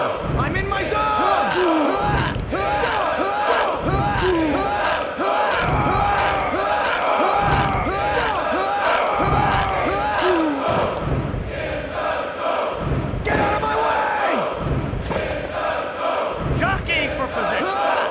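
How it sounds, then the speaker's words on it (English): A wrestling crowd in the PlayStation game WWF Attitude roars and chants in loud, rhythmic surges throughout, with thumping impacts and a commentator's voice talking over it. "This crowd is going berserk!"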